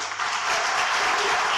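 A church congregation applauds for Jesus, a brief burst of dense clapping that swells slightly and continues steadily with no talk over it.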